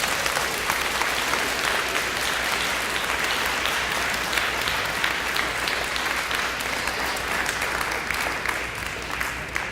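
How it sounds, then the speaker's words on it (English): Audience applauding a school class at a charter school event: loud, continuous clapping from a large crowd that holds steady for nearly ten seconds with no talk over it. "Now let's give Ms. Rolson's class a round of applause"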